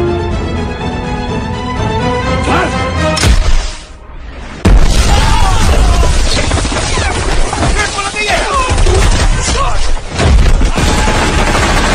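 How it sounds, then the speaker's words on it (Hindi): A sudden burst of gunfire erupts in a battle scene from the film Lal Singh Chaddha, loud and dense fusillades with booming hits, a brief lull partway through, then a renewed barrage. "अचानक गोलियां बरसने लगी।"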